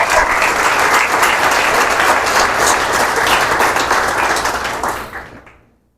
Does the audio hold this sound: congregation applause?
yes